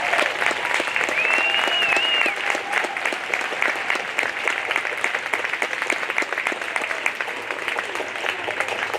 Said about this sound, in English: can we really give them a round of applause for all of their hard work?